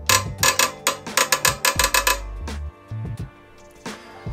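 A badly stuck bicycle bottom bracket on a Specialized Hardrock is worked loose with a tool, giving a rapid burst of sharp metallic clicks and grinding creaks, then a slower few ratcheting knocks, close and loud.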